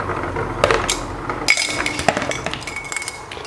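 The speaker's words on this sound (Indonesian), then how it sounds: "setelah 20 sampai 25 menit, toplesnya ini diangkat ya." Glass jars being lifted out of boiling water after sterilizing clink against each other and against a metal pot, with several sharp knocks spread over a few seconds amid a faint bubbling background.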